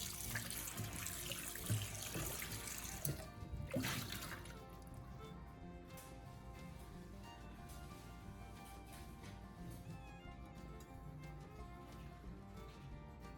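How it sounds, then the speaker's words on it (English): Warm water runs into a sink while a nonstick pan is washed with dish soap, with a steady faint stream, early splashing and the occasional clink of the pan. "start by washing it thoroughly with warm water and a little dish soap."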